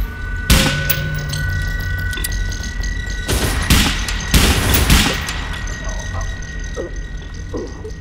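Gunfire in the video game Velvet Assassin aimed at enemy fuel tanks: loud bursts of rapid shots and booming hits in clusters over a background of game ambience.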